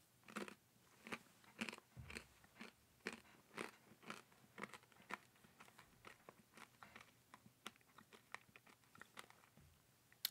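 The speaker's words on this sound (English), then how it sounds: "We get a tiny crunchy edible of some kind." Small crunchy edible eaten during communion at a Sunday church service: close, steady crunching bites, roughly two dozen sharp chews over ten seconds, with no talking.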